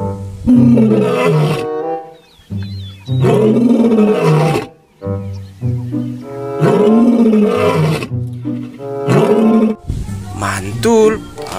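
A lion roars in the video game Jurassic World Evolution 2, loud and close, with a series of long, deep roars separated by brief pauses and no talk over them.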